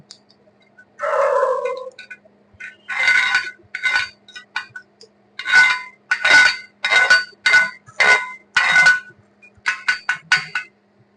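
Slag cracking and dropping away from a vertical 3G flux-cored (FCAW) weld cap, a series of sharp, bright metallic clinks and ticks in irregular clusters, close and fairly loud, with no talk.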